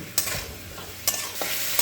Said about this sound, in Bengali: এবার এই ফুলকপির টুকরোগুলোকে খুব ভালো করে ভাজা ভাজা করে নিচ্ছি।